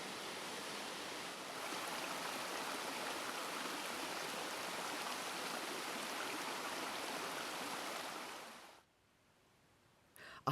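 Loud, steady rush of a waterfall and flowing water in a steep Asturian valley, a dense hiss that cuts off abruptly near the end, leaving near silence.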